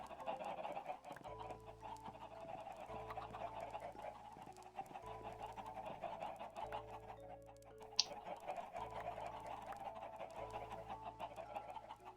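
Chickens on a Minecraft chicken farm cluck steadily and repeatedly throughout, a dense layer of game-animal clucks over a low looping hum, with one brief sharp blip near the middle.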